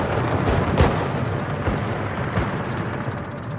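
Torpedo hits exploding against a ship in World of Warships, a few heavy booming blasts over a constant rumbling roar of naval battle, loud and close, with no talking.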